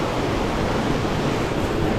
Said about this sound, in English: when we get away from the raging water